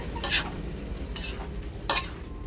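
Shrimp and mixed seafood frying in a home-kitchen pan are stirred with a utensil, giving three scraping strokes over a steady loud sizzle, with no voices.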